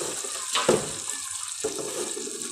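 Water pours into a cooking pan of yogurt-based gravy for nargisi egg kababs, a steady close splashing stream with a couple of louder splashes and no talking.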